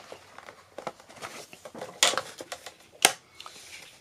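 A Fiskars paper cutter slicing through sheets of paper: two sharp, crisp swipes of the blade stand out over faint rustling and handling of paper.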